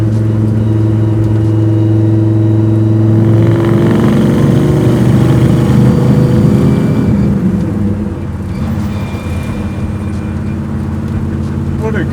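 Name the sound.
1951 Ford Coupe engine accelerating while driving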